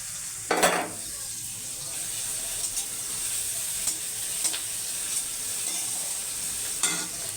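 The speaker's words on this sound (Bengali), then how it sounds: "নুন দেবো পেঁয়াজে আমি তেলে কষকরি মেথিটা দিয়ে দেবো" Chopped onions fry in hot oil with fenugreek seeds, giving a steady bright sizzle throughout, broken by occasional scraping stirs of a spoon against the pan, with no talking.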